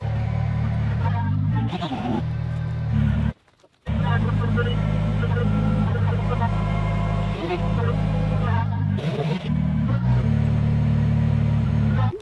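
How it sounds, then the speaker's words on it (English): A working tractor engine, without its backhoe, runs loud and steady with a low rumble, rising in revs at points and cutting out briefly for a moment before resuming. "It's a working tractor"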